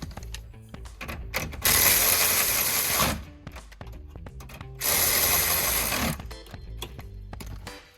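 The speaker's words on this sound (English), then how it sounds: "go ahead and install your main positive and main negative high voltage lines and tighten" A ratchet wrench tightens the main positive and negative high-voltage cable bolts on a Toyota Prius hybrid battery, giving rapid clicking bursts in two longer loud runs with quieter ticks between them, close by and without talk.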